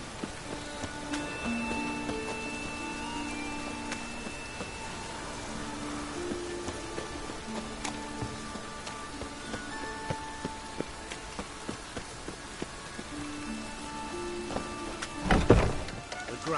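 Rain falling in a town in Witcher 3, a steady patter of drops on surfaces under faint tonal game ambience, with a louder thump near the end.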